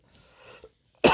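A single sharp, explosive cough bursts out at the end after a soft breathy intake, close to the listener.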